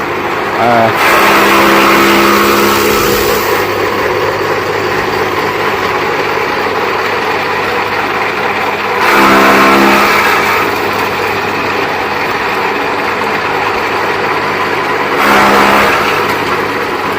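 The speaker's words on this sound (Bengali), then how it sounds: "এই উপকরণের ভিতর একটি অন্যতম উপকরণ হচ্ছে ঘাস কাটা মেশিন এটি অ্যাসেম্বলি করার পর এটি কেমন দাঁড়ায় সেই জিনিসটা দেখানোর জন্য" A newly assembled, China-made grass cutting machine runs outdoors, its small engine idling loudly with a steady drone and rising in three brief revs. Voices can be heard along with it.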